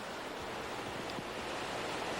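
Waterfall about 6 m high pouring into a cave pool some 7 m across inside an untouched limestone cave, a steady, dense roar of falling water with no voices.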